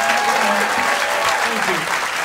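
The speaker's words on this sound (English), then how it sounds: "Give a massive round of applause, Cariad Lloyd, ladies and gentlemen." Loud, sustained theatre-audience applause for comedian Cariad Lloyd at a live comedy podcast recording in Leicester Square, with a few voices and cheers mixed in.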